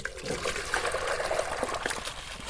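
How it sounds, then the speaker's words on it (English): Water trickles and splashes steadily from a hand-pumped well on a rural property, a continuous close, moderately loud running sound with small bubbling irregularities and no talk. "it's my job now to start pumping the well"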